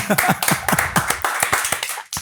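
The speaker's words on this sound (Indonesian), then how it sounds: "tepuk tangan dong" An audience at a talk show claps in a quick burst of many sharp, distinct hand claps that is fairly loud and close, and fades at the end.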